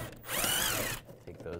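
Power tool driving a 7mm socket to remove bolts inside the wheel well of a 2015-2020 Cadillac Escalade, one close whirring burst of just under a second, followed by quieter clicks and handling noise.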